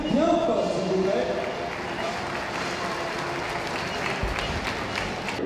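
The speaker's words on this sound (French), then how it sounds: "On peut les applaudir bien fort, s'il vous plaît." A circus audience claps loudly and steadily, dense applause from a crowd that starts strong and settles into an even, continuous patter, with a brief voice or tone over the opening.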